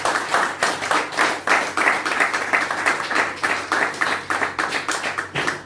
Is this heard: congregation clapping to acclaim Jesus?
yes